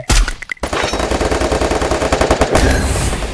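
Rapid automatic gunfire in a video game, a dense burst of repeated shots after a couple of single blasts, loud and up close.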